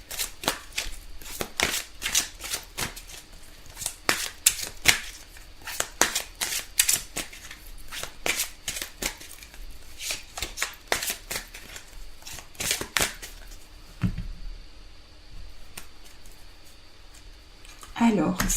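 Oracle cards being shuffled and drawn in a daily card reading, a rapid series of crisp flicking and riffling snaps that fades into softer handling, heard close up with someone speaking French throughout.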